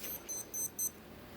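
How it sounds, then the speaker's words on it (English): A kitchen alarm beeps in short, high, evenly spaced pulses, about four in quick succession, faint and slightly distant in a quiet room. "There goes my alarm."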